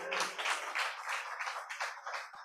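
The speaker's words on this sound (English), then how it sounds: "Can we give them another round of applause?" A town hall audience gives a round of applause at a truck drivers' event: dense, steady clapping from a crowd, fairly soft and continuous throughout.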